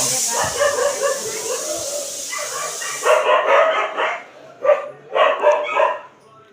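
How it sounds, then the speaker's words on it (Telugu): Dogs bark in repeated bursts nearby, several sharp yelps in quick succession over a steady hiss that cuts off midway. "కుక్కలు అయితే అరుస్తున్నాయి."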